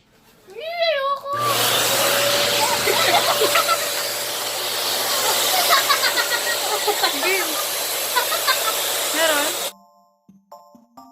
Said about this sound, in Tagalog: And, mag-blower kami ng Pangmalakas na blower.